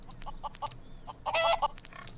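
Chickens in the game Craft the World clucking and squawking in quick, close bursts, a short flurry of several bird calls with a louder cackle in the middle over quiet background.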